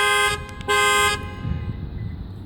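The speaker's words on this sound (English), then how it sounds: "Then you have panic alarm." A 2017 Lexus GX460 panic alarm blasts the horn in two loud, sustained honks, then cuts off, leaving quieter rumbling background noise.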